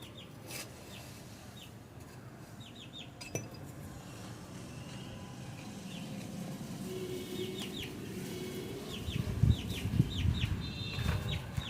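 Country chickens of a pure native breed cluck and chirp around a farmyard, repeated short calls at moderate distance over a steady outdoor background, growing busier and closer toward the end.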